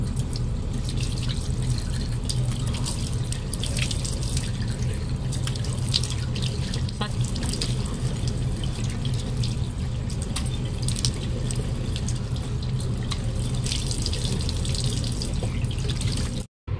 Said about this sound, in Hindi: अब हम धुल लेते हैं अच्छी से,